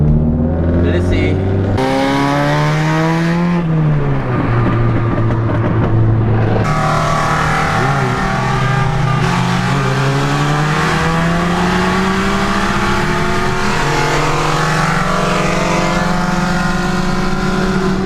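Cars accelerating hard in a street race, one with an engine misfire, with repeated rising engine notes through gear shifts, loud and close, and people talking over the roar.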